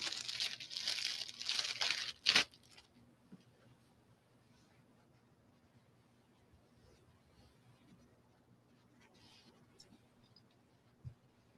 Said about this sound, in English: Those plastic bags are noisy.